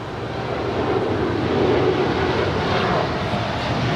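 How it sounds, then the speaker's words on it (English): An American Airlines heavy airliner bound for Miami departs LAX, its jet engines producing a steady, broad roar that swells slightly as it climbs away at a moderate distance. "That is American Airlines Flight 1228 Heavy departing to Miami."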